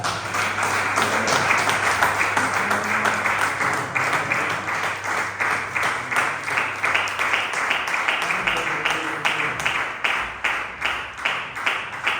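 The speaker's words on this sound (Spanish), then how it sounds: "Un fuerte aplauso para el grupo de alabanza." A church congregation claps for the worship group, a steady, dense applause that holds for the full length and slowly thins into more separate claps toward the end.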